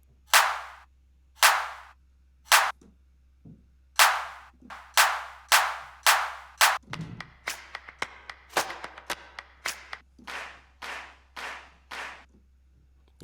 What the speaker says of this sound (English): Then you got claps.